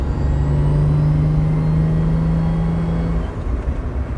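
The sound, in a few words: 1977 Toyota Celica RA28 differential/gearbox whine under throttle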